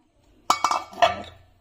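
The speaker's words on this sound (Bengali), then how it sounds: "এখন ঢাকনা দিয়ে ঢেকে দেব" A metal lid clinks onto a cooking pot of ash gourd curry, a few sharp clanks in quick succession, close and distinct in an otherwise quiet kitchen.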